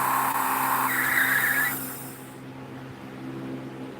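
A Road Ripper toy car whines through a loud, high-pitched electric rev that rises in pitch, then cuts off and leaves only faint background noise.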